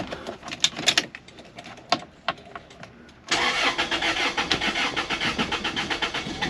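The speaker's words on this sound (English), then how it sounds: "Please crank, just do it. Just fucking start." A Toyota Celica engine cranks in short rhythmic bursts, then catches and settles into a steady, loud running idle with pulsing exhaust, close by.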